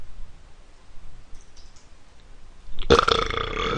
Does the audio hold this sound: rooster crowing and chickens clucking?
no